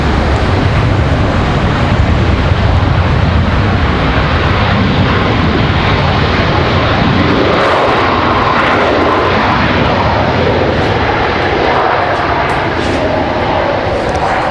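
An airliner jet passes at Washington Dulles airport with a loud, steady engine roar and broadband rumble that holds for about fourteen seconds, shifting slightly as it moves past.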